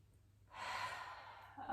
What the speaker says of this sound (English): So this is spinal cord breathing.